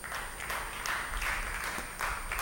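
A church congregation applauds steadily and fairly loudly throughout, a dense wash of clapping with no talk over it.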